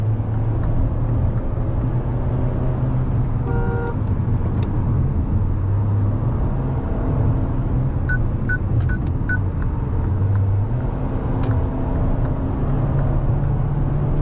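Mahindra XUV 7XO AX7L petrol automatic on the move, a steady low engine drone and road rumble filling the cabin continuously, with a few faint chimes partway through and no talking.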